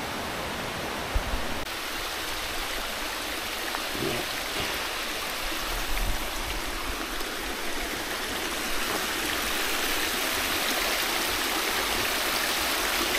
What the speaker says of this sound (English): Jump over this river.